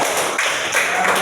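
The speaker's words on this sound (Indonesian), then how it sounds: "kita kasih tepuk tangan untuk kelompok 3." Clapping for a student group in a coding and artificial intelligence open class, a steady patter of many hands lasting about a second, fairly close, with no talk over it.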